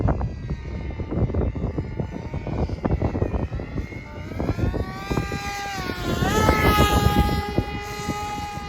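FT Flerken RC plane in flight after two clicks of brake trim, its electric motor whining steadily with pitch rising and falling as it passes, loud and close over wind noise, with no talking.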